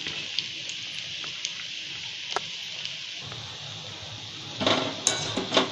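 Spinach pakoda frying in oil in a pan, a steady faint sizzle with scattered light utensil taps and a louder clattering burst toward the end.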